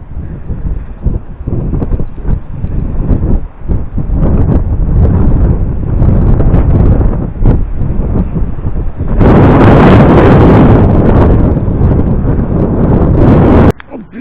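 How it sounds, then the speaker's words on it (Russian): Strong wind buffets the microphone throughout, a loud continuous rumble that surges even harder toward the end before cutting off abruptly. "Сильный ветер, поэтому не ругайтесь."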